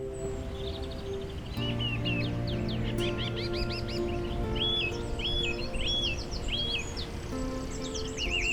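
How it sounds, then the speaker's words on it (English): Songbirds chirp and trill in varied repeated phrases, clear but moderately distant, over a low steady hum and soft wind near a moored narrowboat among ivy and trees. "clearly can be heard the birds singing."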